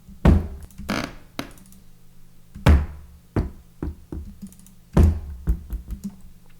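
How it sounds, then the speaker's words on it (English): Doors bang in a horror sound effects pack, a series of sharp, hollow thuds and knocks at irregular intervals, some louder and closer, with quieter taps in between. "we have the doors folder, which is kind of like banging doors"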